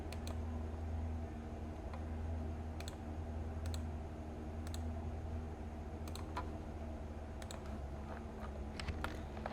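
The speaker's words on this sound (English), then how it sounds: "Now let's click on create." Computer mouse clicks while working in Unity software: sparse, sharp single and double clicks spread irregularly over a steady low room hum, close and fairly quiet.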